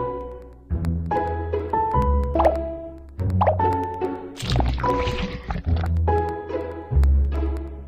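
Cartoonish plops and drips from a pet beauty salon game as honey is added to a rose face mask, a series of bouncy liquid blobs and squishy thunks in an irregular rhythm, fairly loud.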